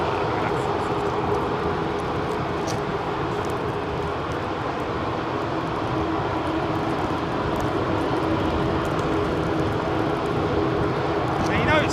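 Jet airliner engines idling at Helsinki-Vantaa Airport while the aircraft is de-iced with hot fluid, a steady loud roar and whine that continues unbroken throughout, with someone talking over it.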